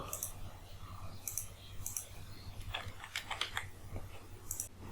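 Keys clicking on a computer keyboard as an Aadhaar number is entered, a few scattered taps and then a quick run of keystrokes, quiet and close over a low steady hum.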